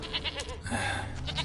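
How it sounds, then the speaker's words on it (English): A goat in The Witcher 3: Wild Hunt gives a short, wavering bleat up close, brief and clear against faint background ambience. "Here, goat."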